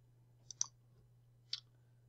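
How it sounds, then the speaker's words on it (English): A few crisp computer mouse clicks, quiet and close, a double click then a single click over a faint steady hum. "Click OK to build S1000D XML DMs."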